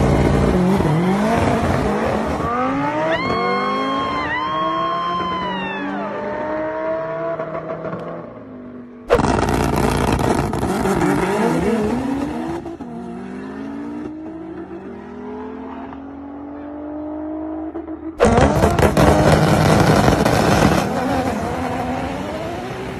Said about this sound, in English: Here's an Evo 8 beating a Huracan and several other cars in a race.